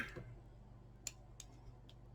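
Small scissors trim excess thread at a fly-tying vise: about three faint, crisp snips spaced across a quiet room, each a brief click with no voices.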